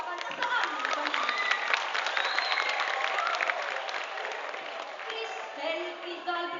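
An audience at a high school balagtasan, a Filipino poetic debate, applauds in a sustained, dense wave of clapping from a crowd, steady and loud throughout with a slight fade near the end.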